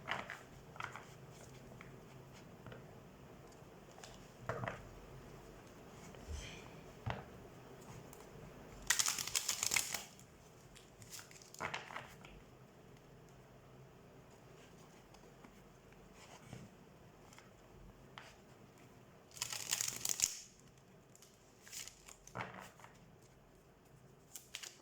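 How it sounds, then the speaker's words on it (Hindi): Quiet intermittent papery riffles and soft card flicks as a tarot deck is shuffled, with two louder bursts of crisp shuffling standing out against near silence. "सबसे पहले हम कार्ड शफल कर लेते हैं।"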